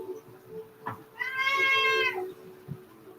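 A cat meows once, a clear drawn-out call close by in a quiet indoor room, with a couple of soft bumps around it and no talking.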